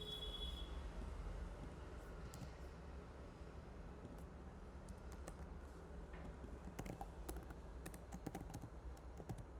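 An email being typed on a computer keyboard, soft scattered key taps over a steady low background hum, faint and without speech.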